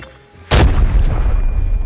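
A bomb blast strikes a player in a tank combat video game: a sudden loud, close boom after a quiet lead-in, followed by a long rumbling decay.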